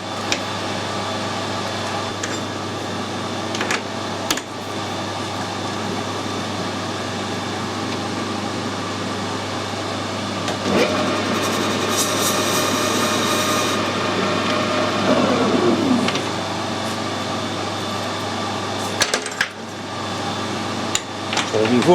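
A lathe parts off a plastic part in a workshop, a steady motor hum with cutting noise that thickens midway, plus a few knocks and clatters; a voice talks over it at times.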